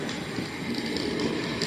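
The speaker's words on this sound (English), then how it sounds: "this train seems to be running at a nice smooth pace, not hurtling around as some of the locomotives do" Model train with a water truck, passenger coach and large caboose runs along its track at a smooth steady pace, a continuous rolling rumble with faint clicking wheel noise, close and even throughout.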